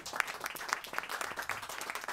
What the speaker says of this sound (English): Let's have another nice round of applause for Matt Clark and the trio.